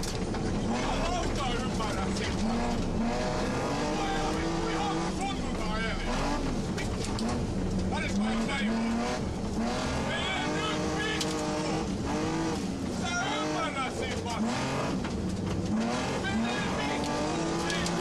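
In-car footage of a car being driven hard, engine roaring loud and continuous with tire noise throughout, voices talking over it.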